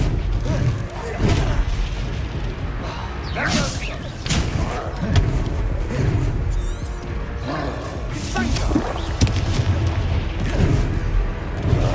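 Confringo fire-spell blasts in the video game Hogwarts Legacy: heavy booming explosions and thuds in a dense, loud combat mix, with game music and voices running underneath.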